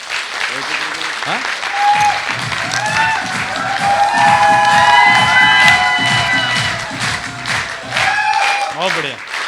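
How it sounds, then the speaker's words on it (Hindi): Enthusiastic audience applause for a speaker at a gathering, loud steady clapping with cheering and shouting voices, and people talking over the crowd noise. "ओमवीर जी के लिए तालियां हो जाए जोरदार"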